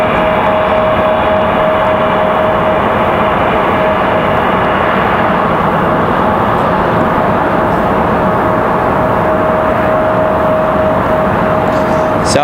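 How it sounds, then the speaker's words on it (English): A Delta CRJ regional jet, Endeavor flight 5101, departs Raleigh-Durham for LaGuardia, producing a steady broadband engine roar with a sustained whine that holds loud and constant throughout, fairly close, with no talking. "This CRJ is Endeavor 5101 headed to LaGuardia."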